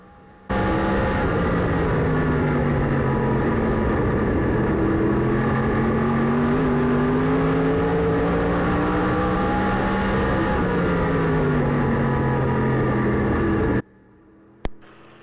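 Tour modified race cars at Stafford Speedway roar through a heat race, one loud engine droning continuously with its pitch rising and falling as it revs through the laps, before cutting off abruptly near the end.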